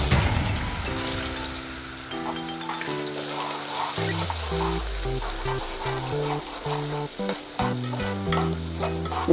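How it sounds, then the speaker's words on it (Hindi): Chopped onion with spices hisses and sizzles steadily in a hot pan for tahdi, with a spoon stirring and clinking throughout. Sustained tones from background music play underneath. "इसके साथ ही मैं इसमें एक कटी हुई प्याज जो मैंने काट के रखी थी इसको भी डाल दूंगी"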